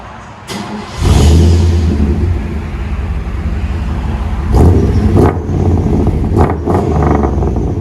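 A Chevy 5.7L V8 with true dual exhaust starts up with a loud rumbling burst, then idles with a deep steady burble, revving sharply a few times near the end, close up with no talk.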